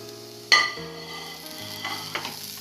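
Carrots and capsicum stir-fried on a hot tawa, with a sharp sizzle as the vegetables hit the pan, then a steady frying hiss and a couple of quieter stirring scrapes.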